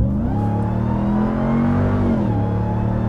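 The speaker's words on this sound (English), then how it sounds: "Get it nice high gear and just gonna stomp on it." A 2021 Ram 1500 TRX pickup with its supercharged Hellcat engine accelerating hard, a loud, close, steady roar that climbs in pitch, drops abruptly with a quick gear shift and pulls again, with no talk.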